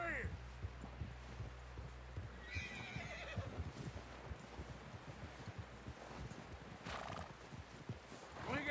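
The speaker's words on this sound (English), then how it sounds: "Someone help John down off this horse." In Red Dead Redemption 2, a horse clops steadily at a walk on open ground, loud and close, with snorts and a neigh around the middle and wind rustling behind, while voices call out briefly.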